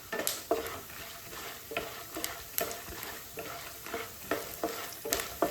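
Peanuts, chana dal and urad dal frying in hot oil for tempering, a continuous crackling sizzle broken by regular scraping stirs of a spoon against the pan.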